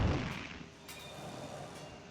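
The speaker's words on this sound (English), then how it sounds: "Small fireworks." Small fireworks from a game launch celebration package in the video game Project Gorgon: a muffled thump and crackle at the start, then a few faint popping bursts trailing off.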